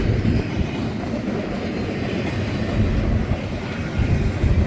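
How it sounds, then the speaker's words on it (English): Freight train rolling past a desert railroad crossing near a ghost town on the Arizona–New Mexico border, a loud, continuous close-up rumble of rail cars with steady clatter throughout and no horn evident. "I don't want to be all up next to the train."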